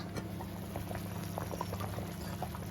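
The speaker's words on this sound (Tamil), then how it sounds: "அதுவும் நல்லா கொதிக்கட்டும்." A pot of vegetable curry kurma boils steadily, with soft bubbling pops and gurgles over a constant low simmer, close and quiet, with no voices.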